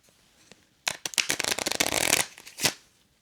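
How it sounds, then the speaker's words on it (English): A deck of playing cards is riffled and shuffled in quick, crisp bursts of fluttering snaps after a quiet start, ending in a short final flurry. "give the cards a good shuffle"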